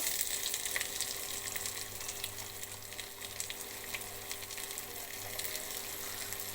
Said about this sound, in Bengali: তেলটা গরম হয়ে গেছে এখন আমি পেঁয়াজ কুচি দিয়ে দেবো